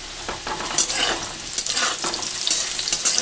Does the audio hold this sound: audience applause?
no